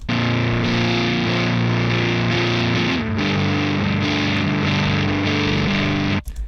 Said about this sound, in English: So without the distortion pedal, it sounds like this.